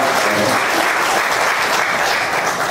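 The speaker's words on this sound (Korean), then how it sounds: "관현악단 단장님께 한번 또 단원들께 박수를 한번 보내주시기 바랍니다" Audience applause for a visiting Coast Guard orchestra at a memorial ceremony, a dense, steady wash of many hands clapping with no talk over it.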